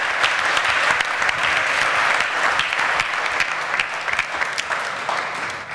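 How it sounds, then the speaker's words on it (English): Another round of applause fills a conference room, sustained dense clapping from the audience at an even level throughout with no talking. "Another round of applause."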